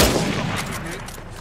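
Sniper rifle fire in the video game Uncharted 4: a single loud, sharp shot that booms up front and then rolls off into a long, dense decay.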